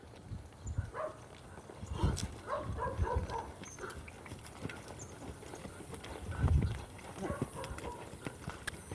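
Horse loping under a rider in training, hoofbeats thudding in an uneven rhythmic series close by, with a trainer's voice talking over them.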